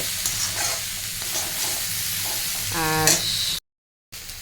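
Steady sizzling of beans and potatoes frying in a pan, with stirring scrapes and a brief metallic rattle near the end before a short gap.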